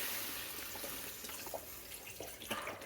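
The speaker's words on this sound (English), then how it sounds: "how much broth you're going to be putting in is you want to cover the noodles" Broth poured over noodles in a pot for quick three-ingredient mac and cheese: a faint, steady liquid pour with small splashes and drips, no talking.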